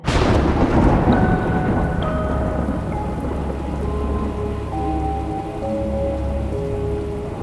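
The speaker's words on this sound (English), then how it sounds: "From the rift came a storm, unnatural and cruel. Rain fell like shards of ice, lashing the treetops." A thunderstorm with steady heavy rain hissing on surfaces and a deep thunder rumble rolling on throughout, dense and loud, with no voices.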